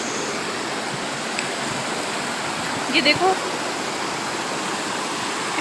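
Dirty water flowing in a stream where a cow was brought to drink, a steady broadband rushing wash throughout, with someone speaking briefly over it.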